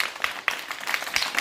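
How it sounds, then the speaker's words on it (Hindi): Children in a classroom story-time session clap together, a loose patter of small claps with a brief dip partway through, at moderate distance and fairly soft. "जरा तालियां तो बजा दो।"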